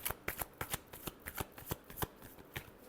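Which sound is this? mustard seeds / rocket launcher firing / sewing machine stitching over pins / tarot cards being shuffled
tarot cards being shuffled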